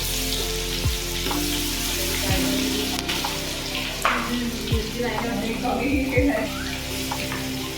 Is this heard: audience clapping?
no